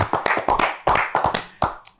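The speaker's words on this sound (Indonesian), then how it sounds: "Tepuk tangan untuk kita semua." Audience clapping at a gathering in a restaurant, a close, uneven run of sharp hand claps with short gaps, loud and dry throughout.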